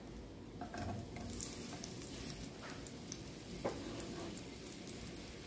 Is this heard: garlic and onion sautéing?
yes